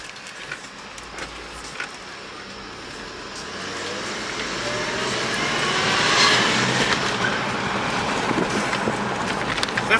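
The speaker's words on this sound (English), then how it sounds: "Definitely hear the supercharger." A supercharged third-generation Toyota 4Runner on a short test drive, a steady road and engine drone that swells gradually, with a faint high whine riding over the rumble throughout.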